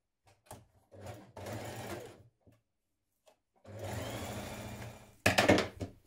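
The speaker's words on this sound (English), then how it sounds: "stitch the double notched edge of the sleeve band together" Short bursts of a sewing machine stitching the double-notched edge of a knit sweater sleeve band, with two main runs of rapid mechanical whirring separated by quiet pauses and a sharper final burst.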